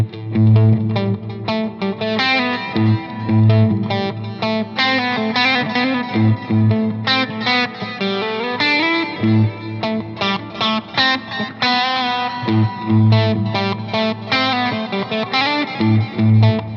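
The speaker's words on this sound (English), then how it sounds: "we're gonna do an overdrive, a hall reverb," An electric guitar plays through a tiny bedroom amp with overdrive, hall reverb and a 335 ms delay, a loud distorted riff of chugging chords and notes with echoing repeats, no voice over it.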